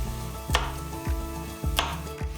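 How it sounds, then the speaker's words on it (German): A knife chops asparagus into roughly 5 cm pieces on a cutting board, producing several crisp, evenly spaced thuds close up over a background sizzle of onions frying in a pan. "die Enden entfernen und die Spargel in etwa 5 cm große Stücke schneiden"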